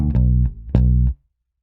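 An electric bass guitar plays a riff: two sustained low notes, each struck with a sharp attack, ringing loud and close and then stopping abruptly.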